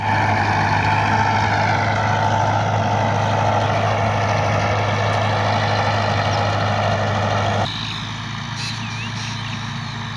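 A Massey Ferguson MF285 tractor engine runs at low RPM with a low, steady rumble nearby, working a rotavator, dropping slightly in pitch and loudness near the end.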